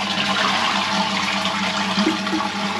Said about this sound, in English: just turn the water off and then give it a flush